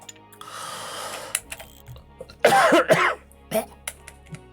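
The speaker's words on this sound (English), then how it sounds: "Cough and choke." A man coughs and chokes in a few rough, loud bursts close to the mic, with quieter throat noises and breathy sounds between them and no words.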